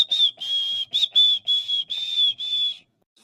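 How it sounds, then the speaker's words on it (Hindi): A shrill whistle is blown in about eight sharp, closely spaced blasts. The blasts are loud and near and come alone before stopping into silence. "क्या रे सीटी बजा रहा है?"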